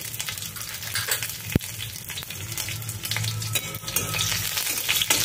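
Slit green chillies and whole cumin seeds sizzle in hot oil, a dense, loud crackle that holds throughout, with a sharp knock early on and occasional stirring scrapes.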